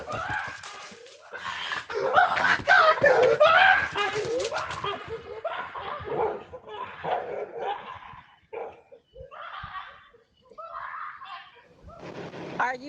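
A dog barks in short bursts during a morning jog, mixed with panicked screaming and excited voices, loud and close, then tapering off into scattered yelps and talk.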